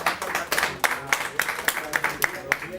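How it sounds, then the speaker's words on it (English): Workshop participants giving themselves a round of applause, scattered, fairly rhythmic hand claps from a small group, moderately close, with voices talking underneath. "I want everyone to give themselves a round of applause for participating in this."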